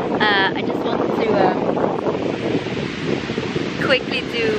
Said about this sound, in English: this is Melbourne Beach on the Atlantic Ocean